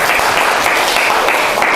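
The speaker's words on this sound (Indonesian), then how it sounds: "tepuk tangan untuk kelompok 3" A classroom of students applauds a discussion group, loud, close, dense clapping that runs continuously without a break.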